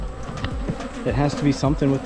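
Honey bees swarm angrily around a beekeeper on a farm in bad weather, a dense, loud buzzing drone that fills the clip with shifting pitches as insects fly close past.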